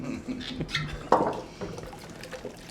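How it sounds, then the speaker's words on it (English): Tequila splashes and glugs briefly into a cocktail batch container amid some clinking and handling noise, fairly close, without speech. "You want to dump that tequila in there?"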